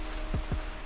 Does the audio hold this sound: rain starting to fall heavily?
yes